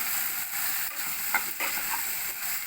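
Curry with coriander powder and ginger-garlic paste stirred in a pan, a quiet steady sizzle under a few soft scrapes and taps of the spoon, heard close with no speech.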